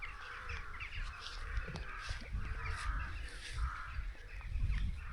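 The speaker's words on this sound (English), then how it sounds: "the trees are full of rooks, and just before they were all flying around this tower" Rooks caw repeatedly from trees around a church tower in early evening, a busy overlapping chorus of harsh calls at moderate distance over low wind-like rumble.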